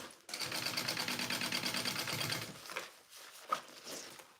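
A sewing machine bastes the exterior and lining of a bag's back piece, running in a steady rapid stitching burst for about two seconds, then stopping, followed by a few faint handling clicks.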